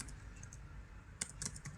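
Typing on a computer keyboard, a handful of light quick clicks, close and quiet against a soft room hiss, with no talk.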